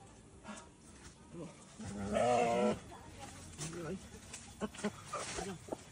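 Sheep bleats in an outdoor Sundanese comedy sketch: one prominent drawn-out bleat near the middle, with other bleat-like calls and background noise around it.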